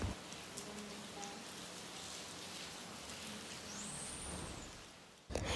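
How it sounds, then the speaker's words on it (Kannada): Steady rain falls outside a home, a dense even patter of drops on surfaces that holds throughout at moderate level, with no voices. "ಮನೆಗೆ ಬಂದ ತಕ್ಷಣ ಸ್ಟಾರ್ಟ್ ಆಯಿತು ಮಳೆ."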